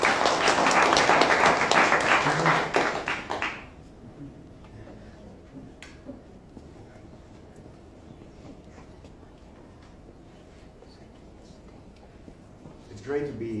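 A conference audience at a symposium gives loud, sustained applause for about three and a half seconds, then the hall falls quiet with faint room noise and a speaker begins talking.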